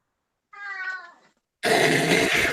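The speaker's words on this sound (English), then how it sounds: "That was a cat." A cat in a 1941 film gives one clear, drawn-out meow, followed after a short pause by a loud, noisy burst of sound.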